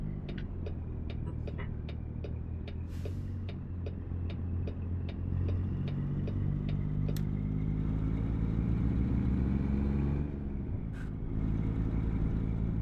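A truck engine in the driving game American Truck Simulator, with a deep, continuous droning rumble and rhythmic ticking clicks over the first stretch, steady throughout with a brief swell near the end.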